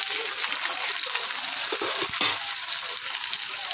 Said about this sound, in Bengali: এবারে তেলের মধ্যে আমি আলুগুলো ভেজে নেব